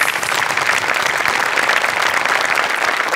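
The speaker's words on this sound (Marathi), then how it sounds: "तर त्यांच्यासाठी आपण टाळ्या वाजवूया" A studio audience at a Marathi comedy show applauds ambulance drivers with loud, sustained clapping that holds steady from start to finish, with no talk over it.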